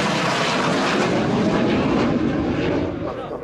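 A Spanish Navy EAV-8B+ Harrier II jet roars loudly overhead during a flying display at RAF Fairford's RIAT 2019 airshow, a broad sustained engine blast that starts to fade toward the end.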